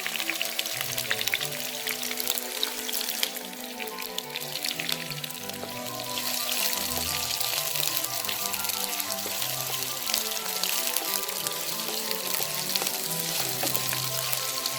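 Chopped, sliced onions sizzle in a pan for mutton chukka, giving a steady, dense, crackling fry that stays even and close throughout with no talk.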